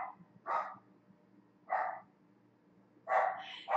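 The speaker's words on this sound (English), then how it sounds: "some really naughty dogs barking downstairs" Several small dogs, chihuahuas, bark from downstairs in a house, with three short separate bursts of yapping spaced about a second apart, moderately loud indoors with no talking.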